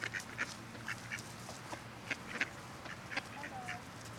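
Ducks quack repeatedly at close range as they are fed, the short bursts coming in irregular clusters over a low background rumble.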